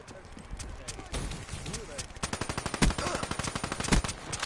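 Rapid bursts of video game gunfire crackle in quick succession, growing into a dense rattling volley near the end, with a player talking over it.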